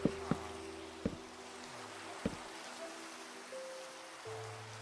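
Rain falling in Minecraft, a steady hiss of rainfall under a few sharp clicks and tonal game sounds, with no one talking.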